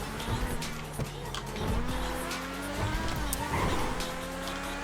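A sports car in GTA 5 Online drives with its engine revving and whining as it rises and falls in pitch. The engine sits close and steady, with bursts of acceleration.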